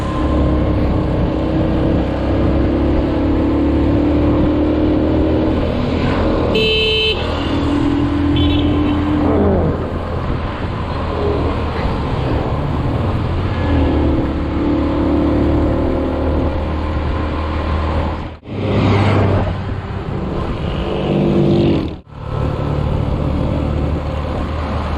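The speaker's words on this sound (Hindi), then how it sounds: "ये छोटी सड़क है, ट्रैफिक बहुत ज़्यादा होती है यहाँ पे।" Road traffic on a small, busy road in the morning, with cars and motorcycles passing close by in a continuous loud engine rumble that swells as vehicles go past, with no talk.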